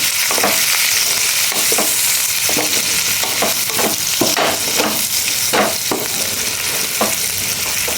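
Spices frying in a pan with turmeric and Kashmiri chili, a continuous close sizzle broken by regular stirring scrapes and taps, fairly loud, with no voices.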